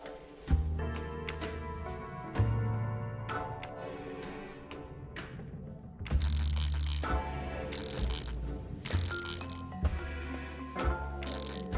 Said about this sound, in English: The sewing machine is working.